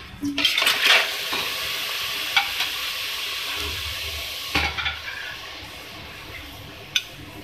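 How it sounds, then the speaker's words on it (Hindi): Chicken drops into a hot pot and sizzles steadily, with stirring and occasional clinks of a utensil against metal. "अब मैं इस पतीले में डाल रही हूँ चिकन।"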